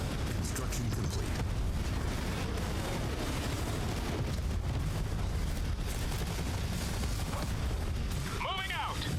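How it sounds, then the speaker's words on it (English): Rocket artillery explosions in the real-time strategy game Tempest Rising pound continuously as a dense, rumbling barrage with overlapping blasts, loud and unbroken throughout, with a brief whine near the end. "We're taking some hits from the rocket artillery."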